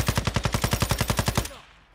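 Rapid automatic gunfire in the shooter game Warzone 2.0 DMZ, a tight burst of about fourteen evenly spaced shots that stops abruptly and leaves a fading echo.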